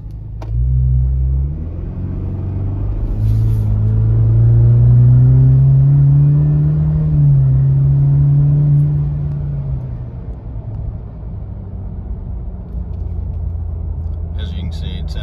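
A 2021 Ford Ranger with a Roush cat-back exhaust heard from inside the cab, a deep rumbling drone that climbs in pitch as the truck accelerates, then settles to a steady cruise.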